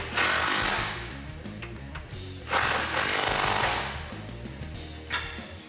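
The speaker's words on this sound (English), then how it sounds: "tighten down these last 2 bolts under here with your" A power tool driving an 18mm socket to tighten bolts on a Jeep Wrangler JL rear bumper, giving loud buzzing, rattling bursts of impact hammering with short dips between runs.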